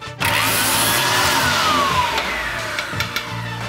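A golf driver shaft for a TaylorMade Stealth 2 driver being cut to length, a steady loud whirring power-tool cut in a workshop with a descending whine as the blade runs through.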